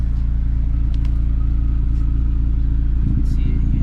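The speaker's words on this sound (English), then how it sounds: "K-Tune catback exhaust." A 9th-generation Honda Civic Si with a K-Tune catback exhaust idles loudly and close by, a steady deep exhaust drone that swells slightly near the end.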